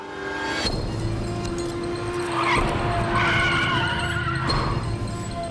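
Cars skid to a halt in a dramatic action scene, tires screeching loudly over engine roar, with a second skid squeal following shortly after; no talking.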